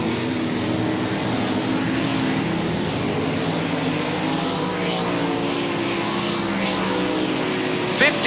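Sprint cars run a hot lap session at Volusia Speedway, a dense, continuous engine roar of several cars circling the dirt track, steady and loud throughout with faint overlapping pitch sweeps as cars pass.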